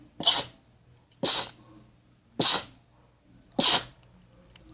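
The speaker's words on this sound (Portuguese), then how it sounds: "Peraí, gente, vou espirrar." Four sharp sneezes in a row, each a loud burst followed by a short pause, close up with no talking.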